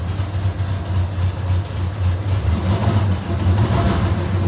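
A Triumph Spitfire Mk4 engine idling on full choke while warming up, a steady low rumble with a slightly uneven pulse, close and continuous with no talking.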